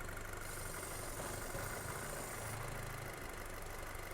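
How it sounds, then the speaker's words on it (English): A VW/Audi 2.0L turbo engine with a lean condition idles steadily at low volume, its hum shifting in pitch partway through as the dipstick is pulled, with no voices. "Hear the engine note change?"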